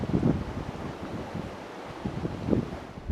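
An Oyster 595 bluewater cruising yacht sails fast at about 10 knots in flat water with a 16 to 17 knot breeze. Steady wind rush and water hiss fill the scene, with surging waves near the start and again about two and a half seconds in.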